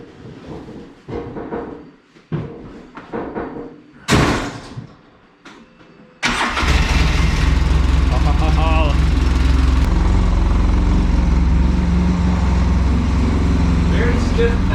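A rebuilt car engine fires up with a sudden roar and then runs steadily and loud, after a stretch of talking and door clunks.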